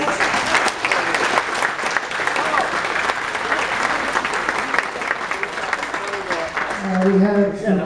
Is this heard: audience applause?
yes